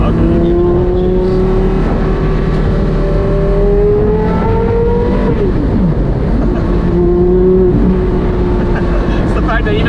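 A car engine hums and rises in pitch as it revs, dipping once before climbing again, loud and close throughout.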